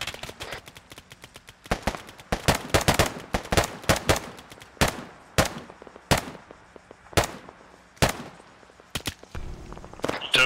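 Sustained covering gunfire in a military video game: dense bursts of rapid shots crackle, then thin out into single and paired reports spaced about a second apart, sharp and close.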